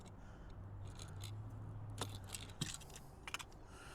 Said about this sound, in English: And trim off the tag end.